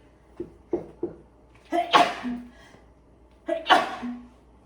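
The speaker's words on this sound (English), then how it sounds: "I'm about to sneeze." A few sharp breaths build up, then two forceful sneezes in quick succession, close and loud, with nothing else in the room.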